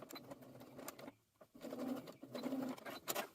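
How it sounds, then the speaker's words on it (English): A sewing machine stitching bias tape on a garment, finishing with a back stitch: a close, steady mechanical whir that stops briefly and then resumes, with light clicks between runs. "When you get to the end, you're going to sew the tape ends together. So finish with a back stitch and take it out of the machine"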